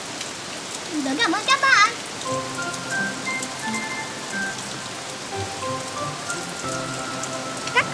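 Steady rain patters on a surface throughout, with a cartoonish sliding tone and bright musical notes playing over it, and a voice speaking briefly in the middle.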